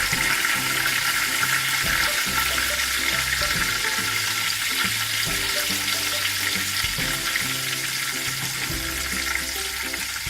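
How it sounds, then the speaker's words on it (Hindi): Green chilies fry in a pan for a daal recipe, giving a steady, loud sizzle with crackling oil and occasional stirring scrapes throughout, with no talking. "ग्रीन चिलीज को थोड़ा सा फ्राई कर लेते हैं।"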